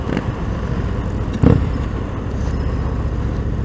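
A 2019 Indian Springfield Dark Horse motorcycle cruises in sixth gear at about 40 mph in sport mode, a steady low engine drone mixed with wind rush, with a brief louder burst partway through.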